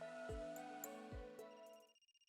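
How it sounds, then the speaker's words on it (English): A telephone rings in the video game Another Code: Recollection, a synthesized electronic ring with a steady tone and two low thuds, loud and alone, cutting off into a softer pulsing tail. "That's the phone."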